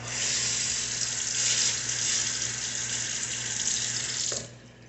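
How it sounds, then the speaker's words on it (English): A loud, steady sizzling hiss runs for several seconds, then cuts off sharply, leaving a quieter hum. "You heard the sizzling."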